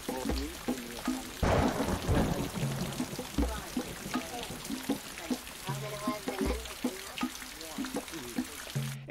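A heavy downpour drums steadily around a Maasai mud and dung hut in Tanzania's Serengeti, a dense, unbroken wash of rain with faint voices murmuring now and then beneath it.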